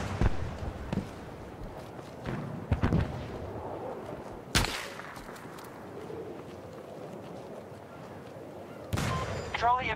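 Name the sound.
rockets fired at player in Battlefield 2042 video game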